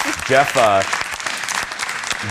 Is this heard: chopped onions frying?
no